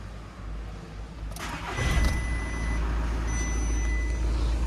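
A cold engine in a used car with about 195 thousand on the clock cranks and starts. Quiet idle at first, then the engine catches with a loud rise and keeps a steady, close running rumble, with a few faint high beeps over it.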